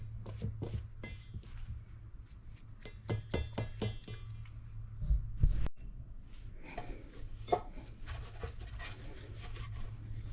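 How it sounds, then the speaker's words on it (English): Salt, sugar and cinnamon being mixed in a bowl for cinnamon bakes, a run of rapid scraping and tapping strokes followed by softer, irregular rubbing, close and quiet. "I'm going to give this all a mix."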